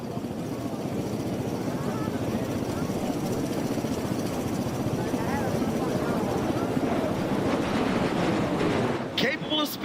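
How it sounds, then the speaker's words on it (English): An MV-22 Osprey tilt-rotor aircraft at an air show gives a steady, loud rotor roar that holds throughout, with a brief rise near the end. "The Osprey is a cutting-edge tilt-rotor aircraft that combines the vertical takeoff capabilities of a helicopter with the high speed and range of a turboprop airplane."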